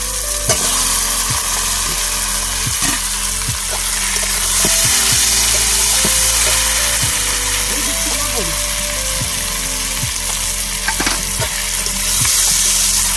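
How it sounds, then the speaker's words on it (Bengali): Chicken meat and spices fry together in a pan, a loud steady sizzle broken by repeated sharp scrapes and knocks of a spatula stirring, with faint speech now and then. "এখন এখানে মশলাটাও কষবে, মাংসটাও কষবে একসঙ্গে"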